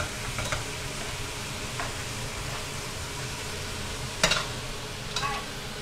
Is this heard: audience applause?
no